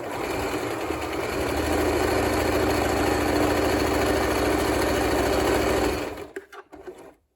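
A sewing machine stitches a festive fabric banner in a loud, steady, rapid mechanical whir for about six seconds, then stops abruptly, leaving a few faint clicks and handling noises.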